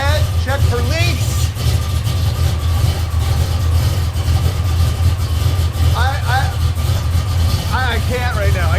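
A Ford Mustang project car runs at its first start, a steady low engine rumble that is loud and close, with excited voices breaking in over it at intervals.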